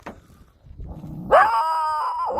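A dog gives a short low growl and bark, then breaks into a long, high, steady whimpering whine, close and fairly loud.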